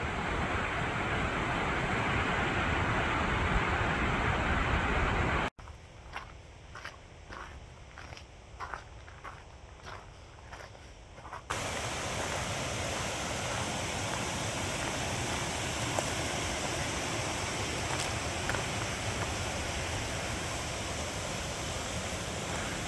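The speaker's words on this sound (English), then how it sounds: "Sounds like a waterfall below me." A waterfall below a hiking trail on the Tuttle Creek Ashram Trail rushes as a steady broadband roar, loud and continuous, briefly cut by a quieter stretch with footsteps before the roar returns.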